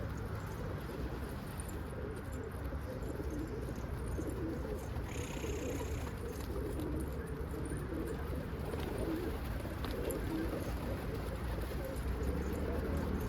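Flight pigeons cooing quietly on a rooftop loft in low murmuring phrases, blended into a constant outdoor hum with no voices.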